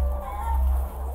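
Chickens, roosters and hens packed into a crowded shed, clucking and calling steadily under a low, constant rumble of ventilation or machinery.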